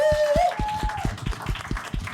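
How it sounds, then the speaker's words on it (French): Rhythmic group clapping from a live podcast audience in a venue, a steady beat of about two claps per second, with a sustained tone briefly overlapping at the start. "Applaudissez mon merveilleux co-host, applaudissez l'Atelier B qui nous reçoit"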